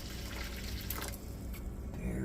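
Water pours into a baking dish around a springform pan holding a New York-style cheesecake, filling about an inch up its sides; a close, steady splashing trickle runs under a faint background murmur.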